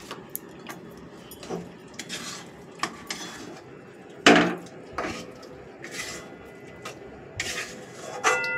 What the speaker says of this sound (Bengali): এরকম কম আঁচেই নাড়তে হবে।